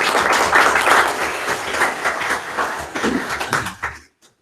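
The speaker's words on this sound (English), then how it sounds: "I think a round of applause for both Brock and James" Applause breaks out in a room during a municipal council meeting, a loud burst of many hands clapping that thins and fades out near the end.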